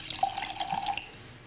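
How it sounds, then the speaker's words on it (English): White wine poured into a glass, a soft trickling stream with faint dripping splashes, quiet and close, running steadily for about a second before tapering off. "pour a little wine,"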